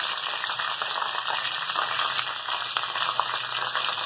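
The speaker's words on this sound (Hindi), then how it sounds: "कड़ी पत्ता जीरा इसको हम फ्राई कर लेंगे।" Curry leaves and cumin fry in hot oil, giving a dense, continuous close sizzle with faint crackles throughout and no speech.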